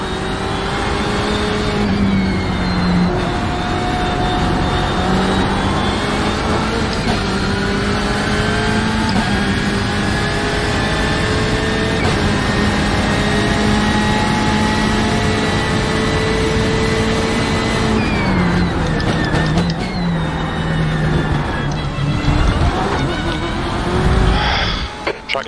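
BMW 120 race car in iRacing at the Nürburgring, engine droning loud and steady with rising and falling pitch through gear changes, a sharp shift near the end; no talk heard.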